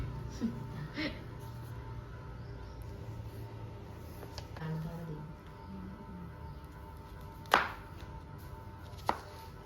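Sharp knife chopping raw mango into small pieces for pickle, heard as a few sparse, dry cuts against a board over a low steady background hum, with two crisper chops near the end.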